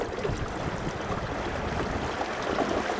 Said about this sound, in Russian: Есть только шум воды, а движок просто молчит.